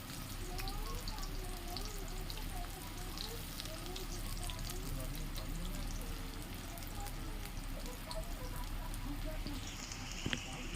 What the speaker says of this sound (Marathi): आता कढई गरम करायला त्यात तेल टाकून आपण हा कांदा पहिला फ्राय करून घेऊया छानपैकी